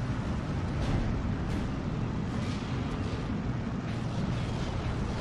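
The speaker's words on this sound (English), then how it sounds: "all my artillery is coming in to basically hit anything that we spot" Artillery shells land in Steel Division 2 gameplay as a dense, rumbling barrage of heavy explosions, loud and continuous with booming impacts rolling over one another.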